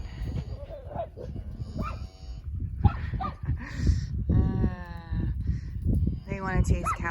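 Cows moo repeatedly nearby, long drawn-out lowing calls overlapping one another, with some talking and rustling in between.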